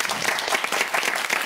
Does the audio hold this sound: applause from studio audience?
yes